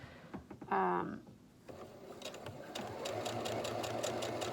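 Sewing machine stitching a seam on fabric for a reusable microwave popcorn bag, a steady close whirring run after a brief louder sound at the start.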